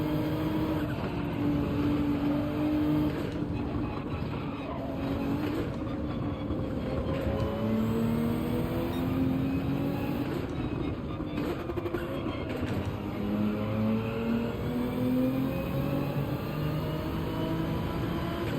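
A Nissan GT-R race car in Gran Turismo 7 races at Deep Forest with its engine droning hard and shifting pitch as it revs and changes gear, loud and continuous, alongside other cars' engines.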